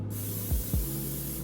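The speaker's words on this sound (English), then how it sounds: "I'm using some non-stick spray," Zero-calorie non-stick cooking spray spritzed into a pan on the stove, two short hissing bursts close by, with no talking.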